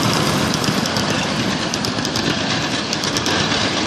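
A steam locomotive train rumbles steadily along the rails with a continuous, loud mechanical roar and faint rhythmic clatter, close by and without any voices.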